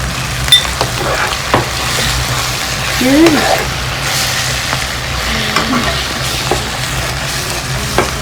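Pounded ginger and garlic hit hot oil in a pan with a steady sizzle and occasional stirring scrapes, while someone talks over the cooking.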